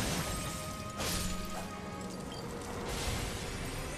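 A crashing shatter in Elden Ring, broad bursts of breaking debris near 1 and 3 seconds over a dense, loud game soundscape.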